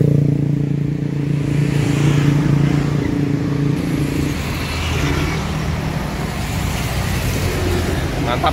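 A bus engine drones steadily from inside the cabin during a ride, a continuous low rumble that shifts pitch slightly as it drives, with road noise around it.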